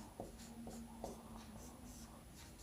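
Chalk or marker writing a formula on a board during a Laplace transform maths lecture, a few short scratchy strokes over a steady low hum, fairly faint and with no talk.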